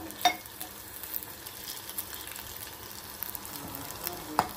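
Sabudana balls fry in oil in a long-used kadhai, giving a soft, continuous bubbling sizzle with small pops and faint clinks of stirring, fairly quiet and steady.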